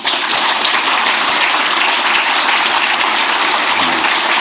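An audience at a government officials' gathering breaks into loud, dense applause, sustained and even throughout, with no talking over it.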